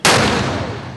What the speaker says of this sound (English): an early morning wake-up call courtesy of the Maryborough Time Cannon